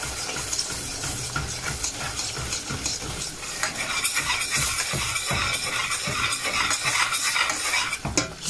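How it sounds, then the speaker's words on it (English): Chicken keema cooks with tomato puree in a pan, stirred vigorously with a metal spoon, giving repeated close scrapes and clinks over a soft, steady sizzle. "Mix it well, let it cook for a few seconds, about 20-30 seconds."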